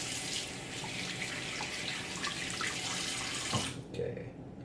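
Tap water runs steadily into a bathroom sink during wet shaving, a broad continuous splashing stream that cuts off near the end, leaving a quieter moment with light movement.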